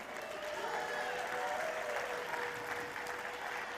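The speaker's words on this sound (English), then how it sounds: "how about a big round of applause for Debo?" A crowd at a tribal fair applauds, a steady, moderately distant wash of clapping hands that stays even throughout, with faint tonal background sounds underneath.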